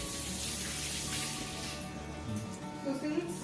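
Tap water runs steadily into a sink as a tomato is washed, a soft continuous splashing heard under faint household background, with a few brief clinks near the end.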